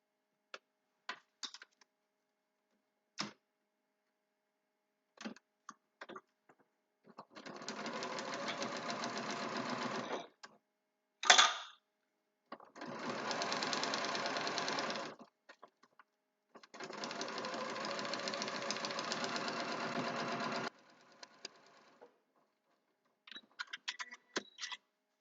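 A sewing machine stitches quilt spool blocks in three separate runs of a few seconds each, with scattered clicks and handling noises in the quiet gaps between them.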